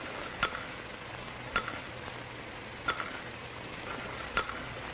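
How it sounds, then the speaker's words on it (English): A spoon stirs tea in a cup, giving four soft, evenly spaced clinks over a quiet, hissing background. "I can stir my tea so as to cause a circular motion."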